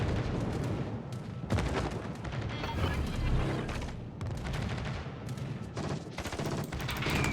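Naval gun salvos from a World of Warships battle featuring the Saipan carrier, with repeated dense, loud booming bursts layered over continuous battle noise throughout, no voices.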